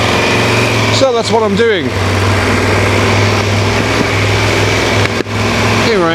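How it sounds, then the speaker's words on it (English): Triumph Tiger 1200 Rally Pro motorcycle engine idling with a steady low throb and a few rising revs early on, loud and close under a voice. "I'm just going to go out and ride that motorcycle."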